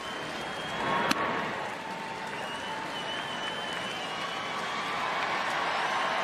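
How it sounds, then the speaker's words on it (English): Stadium crowd at a Major League Baseball game between the Washington Nationals and Chicago Cubs cheering and applauding steadily, a broad sustained roar with one sharp clap-like spike early on. "There's a lot of cheering going on."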